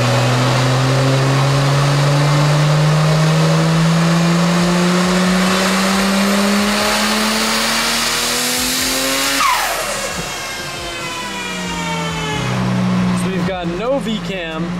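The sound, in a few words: Nissan R34 GTR engine revving on a dyno pull without VCam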